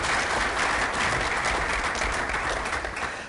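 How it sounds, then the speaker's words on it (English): A forum audience bursts into dense, loud applause, a continuous close roar of many hands clapping at once with no voices on top. "Give Kirsten a round of applause."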